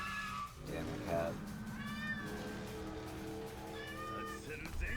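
Cat meowing inside the video game Yakuza 5, several drawn-out rising and falling meows close by, set against steady game background sound.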